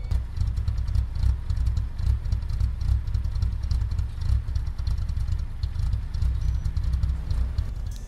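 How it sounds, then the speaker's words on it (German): Idling engine of a BMW M3 E30 in the racing game Need for Speed Heat, a steady low rumble holding at one pitch with no speech over it. "Hört euch mal den Standsound an."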